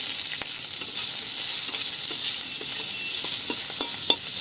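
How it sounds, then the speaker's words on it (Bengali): Panch phoron, chopped onion and green chili frying in oil for a home-style tilapia curry, giving a steady bright sizzle throughout with occasional soft stirring clicks and pops, close and alone. "তেল দিচ্ছি পাঁচফোড়ন পেঁয়াজ কুচি আর কাঁচা লঙ্কা"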